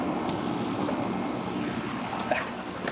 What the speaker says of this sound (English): You want to make sure that the sheriff chopper sees you.